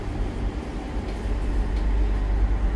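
The Fajar Solo long-distance train at Jatinegara station gives a steady low rumble that builds slightly in loudness, with no clear voices.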